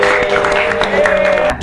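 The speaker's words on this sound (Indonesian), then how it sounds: "beri tepuk tangan untuk kelompok" Classroom applause for a student group during an Islamic ethics lesson, a steady wash of clapping from a class with voices mixed in throughout.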